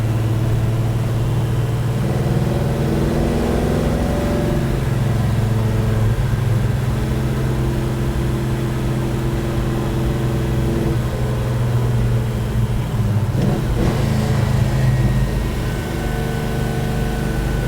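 A car's engine drones steadily while driving, with a 5-speed transmission, 87 octane fuel and a Quick Fuel 680 carburetor; a loud, continuous low hum holds throughout, shifting pitch slightly around midway.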